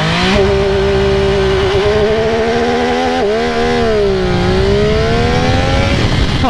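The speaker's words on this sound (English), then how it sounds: "now you guys see how the launch control works on this bike" A 2022 MV Agusta F3 Rosso three-cylinder sport motorcycle launches under launch control at full throttle, its loud, close engine howl rising in pitch, dipping briefly at a gear change, then climbing again.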